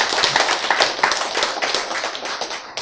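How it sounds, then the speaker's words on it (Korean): Lively audience clapping during a Korean lecture, a brief, bright burst of many hands that is loud and close, with a few louder individual claps, fading slightly at the end. "박수!"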